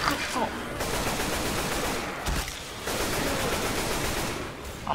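Dense automatic gunfire in the zombie shooter Left 4 Dead 2 rattles almost continuously, loud and close, with short breaks between bursts and a voice talking underneath.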